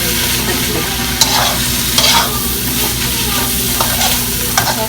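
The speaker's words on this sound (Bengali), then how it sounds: "কারণ আমি কিছুটা ভাজা ভাজা করব যার জন্য পানি খুবই সামান্য" Dried loitta fish fries in a little oil while being stirred, giving a loud, close, continuous sizzle broken by several sharp spatula scrapes against the pan, with no talking.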